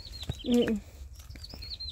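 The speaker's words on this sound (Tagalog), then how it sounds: "May ibon." A small bird chirps on a hike on Sharp Island, brief high tweets scattered around a louder low rustle, with a voice-like sound partway through.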